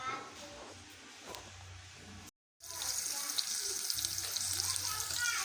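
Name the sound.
onions sautéing in hot oil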